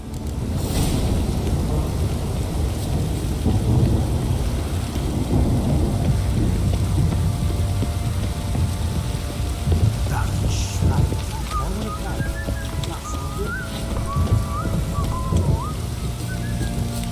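Heavy downpour and rolling thunder in a stormy scene from the Witcher 3 game, a loud continuous roar of rain with deep rumbles, while a voice speaks over it toward the end.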